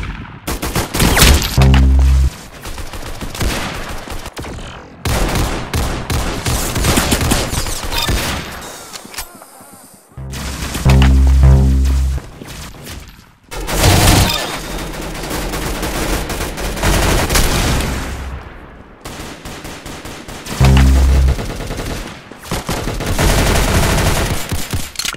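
Gunfire in the Arsenal mobile video game roars in loud, dense automatic bursts that repeat over about twenty-five seconds, with booming low impacts recurring every few seconds and brief gaps between volleys.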